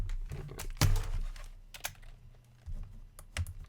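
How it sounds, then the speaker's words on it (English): Computer keyboard typing, close and fairly quiet: a short burst of irregular key clicks and taps with a soft low hum beneath, no voices. "having some trouble with my keyboard"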